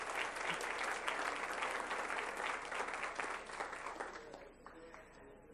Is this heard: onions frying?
no